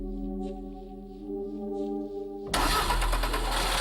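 A Lotus Esprit S4S with a small 2-litre turbo four-cylinder: a low steady hum with a faint whirring, then the engine catches suddenly and roars to a loud, rough run, close by, with no talking.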